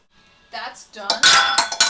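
Dishes thrown into a sink after baking, with a rising clatter of clanks and clinks that builds into a dense, loud rush of impacts, close by.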